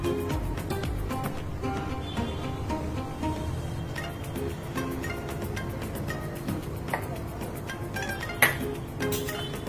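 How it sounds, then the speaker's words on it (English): Spoon stirring a coconut almond drink with coconut water, sugar syrup, sabza and kevra water in a glass, giving light clinks against the glass over steady kitchen background noise, with one sharper clink near the end. "Give it a stir, nice stir"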